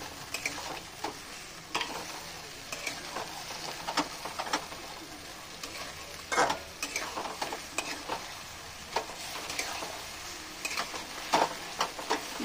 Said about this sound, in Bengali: এরপর মাংসটা দিয়ে দিয়েছি কড়াইতে, দিয়ে এবার বেশ ভালো করে নাড়াচাড়া করতে হবে।